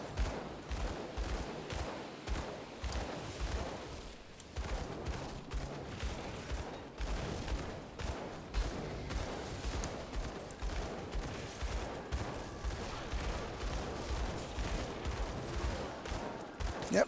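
Sustained gunfire in the action RPG Grim Dawn, aimed at the enemy Zarya during an Act 3 boss fight: dense, continuous volleys of shots with a busy battle mix, steady and loud throughout.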